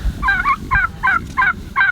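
Turkeys gobble in five quick bursts as they are herded into a farm coop, loud and close, with no talk over them.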